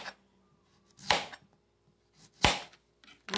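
A knife chops zucchini on a cutting board in a home kitchen, giving two sharp, separate cuts about a second and a half apart, close and clear, with quiet pauses between them.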